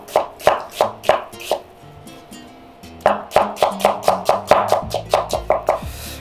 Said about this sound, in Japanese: 玉ねぎはスライスです。